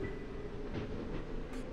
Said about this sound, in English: That starts the train.